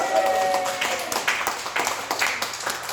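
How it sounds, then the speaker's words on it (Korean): Congregation clapping during a Korean church sermon, a steady run of overlapping hand claps filling the room at moderate loudness. "박수 박수"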